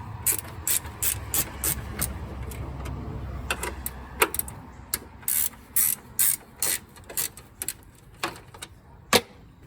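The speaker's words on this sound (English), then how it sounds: "Now we're going to undo the radiator. These 2 nuts right here, 10 millimeters." A ratchet wrench undoes the 10 mm radiator nuts on a Nissan Pathfinder R50, a run of sharp, close clicking bursts in quick rhythmic groups with brief pauses, and no talking.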